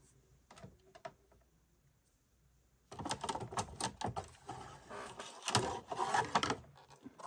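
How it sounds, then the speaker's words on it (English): Fiskars paper trimmer cutting a card edge: a few light clicks and taps, then a close scraping, rattling slide of the blade across the card that lasts several seconds. "So I'll trim off this edge."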